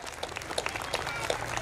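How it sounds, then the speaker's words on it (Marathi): Audience applause at a school event, a dense steady clapping from a crowd of people, fairly loud and without speech. "आपण सर्वजण एकदा टाळ्या वाजूया"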